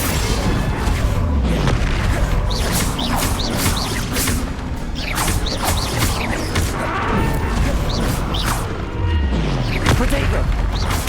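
Spell explosions and combat effects from the video game Hogwarts Legacy, a dense continuous battle of booming blasts, crashes and whooshes with repeated impacts, loud throughout with a voice casting spells over it.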